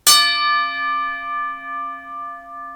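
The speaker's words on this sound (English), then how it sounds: "one count bell" A single bell struck once in memory of boxer George Foreman, ringing out with a bright metallic attack and a long, slowly pulsing sustain that fades gently over nearly three seconds, alone with no voices.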